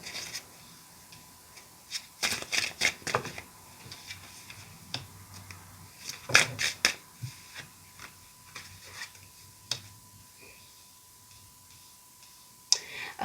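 Tarot cards shuffled by hand, heard as irregular bursts of crisp riffling and clicking snaps separated by quiet gaps, close and moderately loud with no voice over them.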